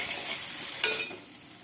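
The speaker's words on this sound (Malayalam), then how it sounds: "അത് നീളത്തിൽ അരിഞ്ഞതൊന്നും ഇട്ട് നല്ലപോലെ ഒന്ന് ഇളക്കി കൊടുക്കാം" Onions sliced lengthwise fry in a pan for a mackerel fish curry, giving a soft, steady sizzle with one quick stirring scrape partway through, faint and close, with no talking.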